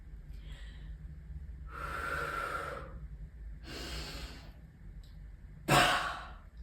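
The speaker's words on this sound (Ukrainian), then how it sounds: "Починаю дихати." Bodyflex breathing exercise: a person takes deep, loud breaths in separate bursts, a long sighing inhale and exhale, a second breath, then a sharp forceful gasp near the end, close and otherwise quiet.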